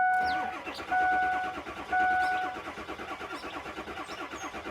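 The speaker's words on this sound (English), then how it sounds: "I'm gonna crank the engine." A Ford F350 diesel truck engine cranking with a steady rhythmic churn of the starter, close and loud, without catching or starting; a high electrical whine sounds in short bursts early on, and no one speaks.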